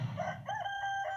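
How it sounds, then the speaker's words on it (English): A rooster crows in a Wii Sports Resort video game, one short cock-a-doodle-doo with a rising then wavering call, moderately loud and alone. "And a rooster."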